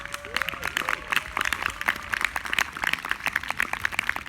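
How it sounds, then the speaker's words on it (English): Crowd applause at an ecstatic dance demonstration in Berlin, rapid uneven claps from a group outdoors with voices and other crowd noise mixed in. "let's give a round of applause for Pascal."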